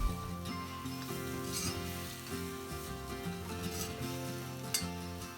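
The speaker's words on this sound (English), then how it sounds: "Add around 250 grams of chopped button mushrooms." Chopped button mushrooms frying with soft onions in a pan, a low steady sizzle with faint stirring scrapes, heard under quiet background music.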